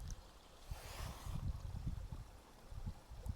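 A small creek trickles over rocks in the Pennsylvania wilderness. The soft, faint gurgling flow is broken by low, uneven rumbles and bumps close by.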